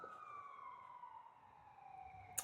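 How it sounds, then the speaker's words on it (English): An ambulance siren wails in a steady, slowly falling tone as it passes at a distance, fairly faint over low background rumble, with no one talking. "That was an ambulance"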